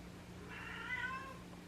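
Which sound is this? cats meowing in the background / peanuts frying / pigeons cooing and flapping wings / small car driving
cats meowing in the background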